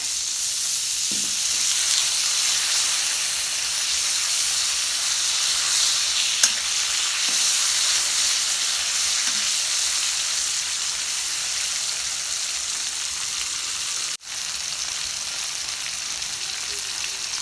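Spices fry in a hot pot with a constant loud sizzle, the steady crackle broken only by a faint clink or two of stirring.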